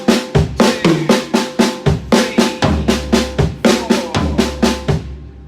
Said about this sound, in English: I'm going to take the last note on the low tom,